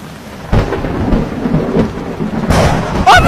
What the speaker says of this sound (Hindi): बाहर मौसम खराब है, बिजली कड़क रही है